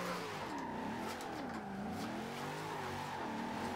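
Tires squeal on a V8-swapped Nissan Skyline R34 as it drifts in the Forza Horizon 2 racing game, a continuous wavering screech over a steady engine drone, loud and close throughout.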